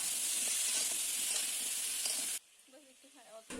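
Chopped vegetables sizzling loudly in hot oil in a pan with masoor dal and spices, a steady frying hiss that cuts off abruptly, followed by faint clinks.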